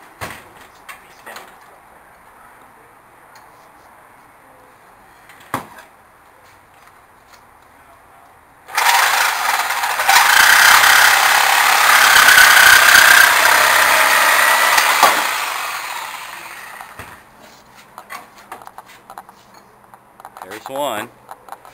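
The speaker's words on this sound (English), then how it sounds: "is going to use a sawzall, and we're going to cut a foot-long shuriken" A reciprocating saw bites into a foot-long metal shuriken with a loud, harsh buzzing cut lasting several seconds, bracketed by quieter workshop clatter and scattered knocks before and after.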